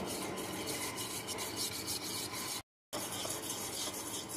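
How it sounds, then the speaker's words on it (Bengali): A milk mixture seasoned with a pinch of salt and cardamom powder is stirred briskly in a bowl, giving a continuous close scraping rub with a brief pause near the end. "এখন আবারও এইভাবে ভালো করে মিশিয়ে নেব।"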